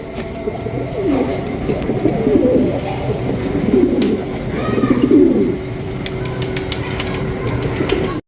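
Lahori pigeons coo repeatedly up close, soft throaty rolling calls rising and falling in overlapping phrases over a steady background hum, with a few faint chirps.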